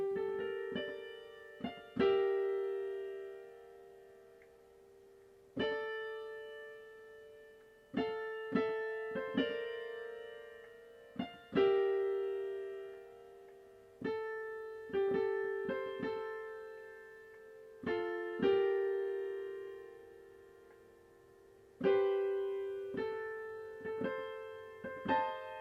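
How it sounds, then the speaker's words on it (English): Right-hand piano melody of a song from La La Land, played slowly as single sustained notes and small clusters with pauses between phrases, each note decaying cleanly, solo and close. "the melody in the right hand sounds like this"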